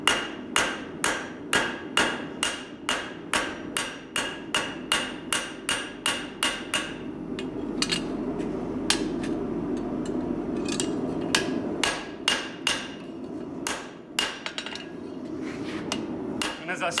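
Metal hammer blows shaping a rivet head on an anvil. A steady, evenly spaced run of ringing strikes is followed by a pause of softer handling noise, then more irregular taps.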